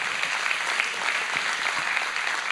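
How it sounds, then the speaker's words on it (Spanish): A church congregation applauds, steady dense clapping from many hands filling the room without pause. "demos un aplauso fuerte a todos los que sirven en el equipo Impacto"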